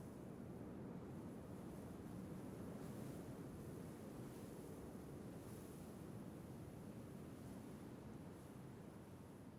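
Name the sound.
feeble sea waves in a video game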